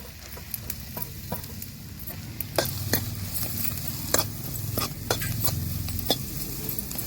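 Ridge gourd sizzles in a curry pan with turmeric while a spoon stirs it, sharp metallic clinks and scrapes recurring irregularly over a soft, steady frying hiss, close and fairly quiet.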